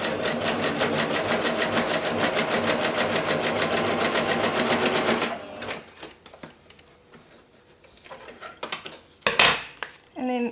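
A sewing machine stitches a zigzag through fabric scraps in a fast, even mechanical chatter for about five seconds, then stops, followed by soft handling noises and a few sharp clacks.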